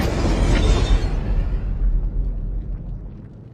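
A loud explosion blast from a Bollywood film hits hard and broad, then its deep rumble slowly decays and fades over several seconds.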